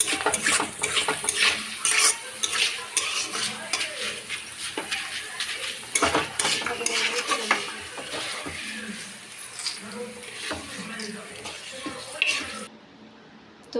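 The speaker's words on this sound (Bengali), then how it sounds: "ভালোভাবে ভেজে নেব যাতে পুড়ে না যায়।" Shredded-potato papad fries in a pan, with constant clinks and scrapes of a utensil against the pan over a light sizzle, close up and without talk.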